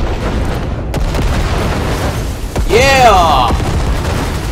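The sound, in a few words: grenade explosions in the video game Cyberpunk 2077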